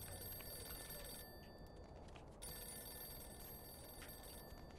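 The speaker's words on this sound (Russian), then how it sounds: "Телефон звонит." A telephone rings inside the video game Mafia 2, a steady trilling bell repeating across the stretch, fairly faint and set against constant background noise with no talk over it.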